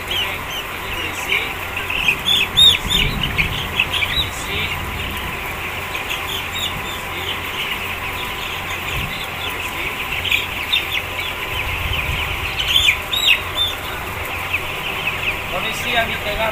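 Broiler chickens on a farm cluck and chatter continuously as a dense flock, with someone talking intermittently nearby.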